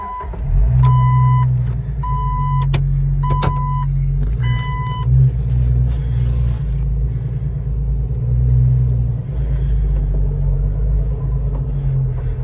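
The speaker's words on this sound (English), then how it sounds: "Guess we'll go ahead and take this thing on a quick test drive" Engine of a Jeep Wrangler Sahara rebuilt with all new parts, a steady loud low rumble throughout a test drive, with a few short electronic beeps near the start.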